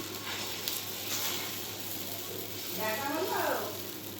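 Oil sizzles softly on a flat pan. Near the end a spatula sweeps across the surface in a short scraping stroke, and the sound rises slightly.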